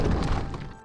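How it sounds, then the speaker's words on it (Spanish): Heavy stone rolled across the entrance of a lions' den lands with a dull, loud thud and a grinding rumble that fades over under a second. "El sonido de la roca que cerraba la entrada selló su destino."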